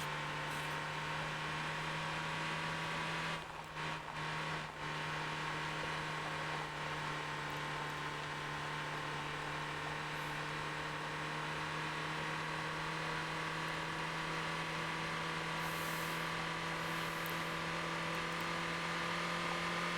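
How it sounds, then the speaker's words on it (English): A truck engine in the driving game Motor Town drones at a steady, even hum while cruising, with a constant low tone and no talk. "I'm happy that I'm using this truck again"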